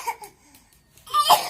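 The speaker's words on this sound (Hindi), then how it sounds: "इससे अब खांस ले जी भर अच्छा से खांस" A person coughs in a few harsh, close bursts near the end, after quieter breathy vocal sounds, in a homey domestic setting.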